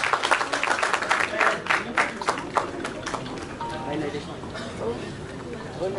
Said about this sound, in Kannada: ಜೋರಾದ ಚಪ್ಪಾಳೆ ಬರ್ಲಿ ನಮ್ಮ ಗೋಲ್ಡನ್ ಸ್ಟಾರ್ ಗಣೇಶ್ ಸರ್ಗೆ